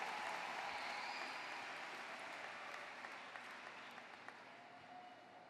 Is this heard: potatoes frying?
no